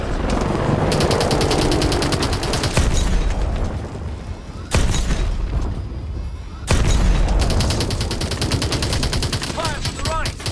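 Heavy gunfire in Call of Duty: Advanced Warfare, sustained rapid machine-gun bursts with booming impacts and abrupt loud surges, close and dense throughout.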